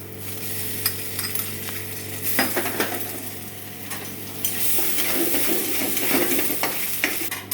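Ginger garlic paste added to fried onions and sizzling in a pan, with repeated scraping and clinking of a spatula as it is stirred, the sizzle swelling louder partway through, close and without speech.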